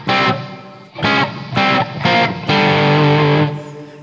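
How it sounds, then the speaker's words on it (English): A heavily distorted electric guitar plays a riff in loud, chunky stabbed chords with a held final chord, set in a short room reverb that decays quickly. "It's this reverb that has a short decay. It sounds like it's just hitting the back wall of a nice medium-sized room."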